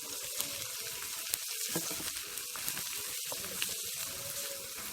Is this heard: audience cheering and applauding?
no